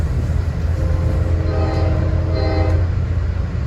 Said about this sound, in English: he's really honking that K5 LA horn